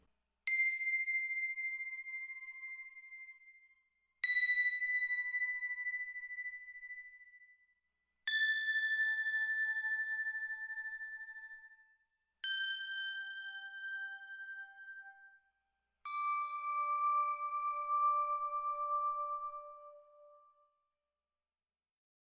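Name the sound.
Tingsha bells being played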